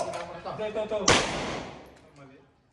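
A single sharp CCP-10 SC pistol shot rings out at an outdoor shooting training session, loud and close, its echo trailing away over a couple of seconds after a brief stretch of talking.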